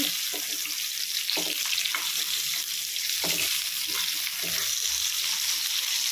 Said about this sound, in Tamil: வேறு 65 வறுத்துட்டுருக்கேன்.